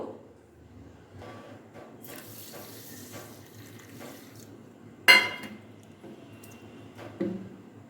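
Water poured into a bowl of broken wheat dalia to soak, a brief splashing pour around the midpoint with a smaller splash near the end over quiet kitchen background.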